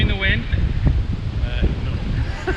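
Strong outdoor wind roars steadily against the microphone, loud and close throughout, with a voice heard briefly under the gusts.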